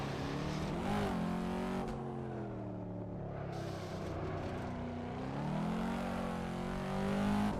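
A race car engine roars steadily in a 1966 Le Mans racing sim, revs rising and falling through the gears with a loud, continuous drone and no voices.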